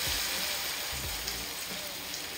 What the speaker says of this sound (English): You need a lot of oil to fry this.